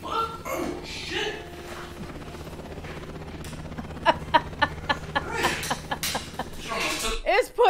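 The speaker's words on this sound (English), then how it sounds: "It's putting the helicopter sound." A helicopter sound effect plays as a rapid, rhythmic thudding of rotor-like pulses mixed with mechanical whirring, partly buried under nearby people talking, coughing and chuckling.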